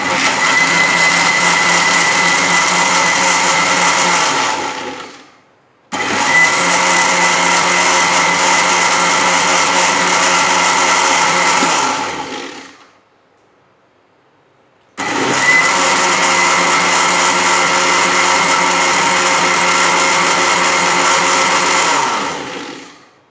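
An electric blender grinds mango juice with two ice cubes in a jar, running in three loud, sustained whirring bursts separated by short pauses.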